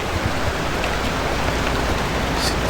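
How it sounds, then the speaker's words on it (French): Rain falls in the video game Pacific Drive as a dense, steady hiss of drops on surfaces, loud and unbroken, with no voices over it. "Il pleut."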